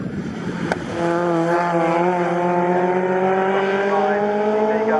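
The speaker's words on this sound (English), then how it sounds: "it's the yellow MGB, monstering the little red midget in front of it, for third place in this race" Yellow MGB and red Midget race cars at Snetterton, engines roaring loud and close as they pass onto the start-finish straight, a steady high engine drone with rising pitch held for several seconds.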